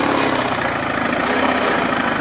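Soviet Ural motorcycle engine pulling steadily along an overgrown winter track, a loud, close, continuous rough rumble with no pauses.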